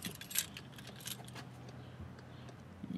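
A car key jangles on its ring as it is pulled from the ignition, giving a few bright close metallic clinks over a quiet low hum.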